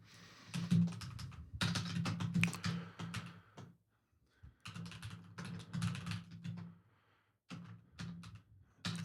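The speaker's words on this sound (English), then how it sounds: "while I'm just kind of like typing out these long lists of field names" A computer keyboard clatters with quick close-up typing bursts, pausing briefly between stretches of rapid keystrokes while a programmer enters long lists of field names.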